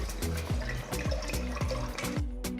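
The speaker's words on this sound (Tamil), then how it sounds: "ஒரு பாத்திரத்தில் தேவையான அளவு தண்ணியை ஊற்றி" Water pours steadily into a metal pot, gurgling and splashing with a rising fill tone, close and fairly loud.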